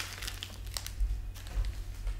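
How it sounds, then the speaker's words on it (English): A plastic packet of drinking straws is torn open, producing a few soft crinkles and rustles, close but quiet, over a low background hum. "Crack open the straws."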